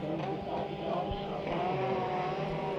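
Mini stock race cars roar around Bakersfield Speedway's oval in a steady, dense wash of engine noise, several cars close together for the lead, with crowd-and-announcer-level talk blended underneath throughout.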